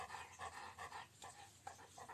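A dog pants in quick steady rhythm, close by and fairly faint, with no other sounds.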